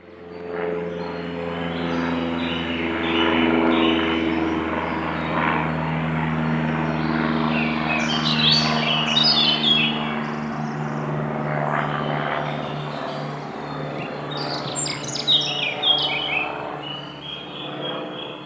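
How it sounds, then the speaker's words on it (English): Birds chirping in short bright bursts over a steady low droning hum, the calls coming in clusters partway through. "Exactly, bird song."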